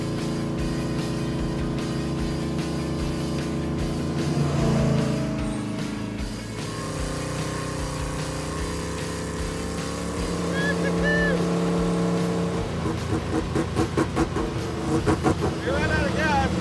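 A race truck's engine runs steadily on an off-road outing, a continuous droning hum with a rising rev and throbbing pulses near the end, heard under people talking.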